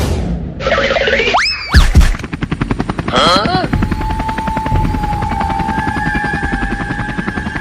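A cartoonish helicopter chops rhythmically after springy boing effects and sharp bangs, then settles into a steady whining engine hum.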